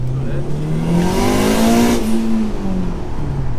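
A 450 hp Honda Civic FN2 Type R automatically blips its engine on a downshift, a loud close rev that climbs and falls back over a few seconds inside the cabin.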